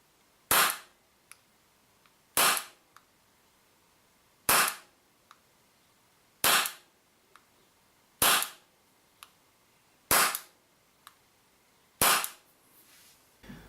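Seven sharp, loud shots from a WE Colt 25 gas blowback airsoft micro pistol, fired one at a time about every two seconds, each followed by a faint click, with no talking.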